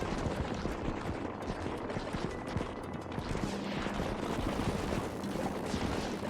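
Rapid automatic fire from a laser arc turret in the sci-fi defense game Utopia Must Fall, a dense steady crackle of shots that runs loud and unbroken throughout.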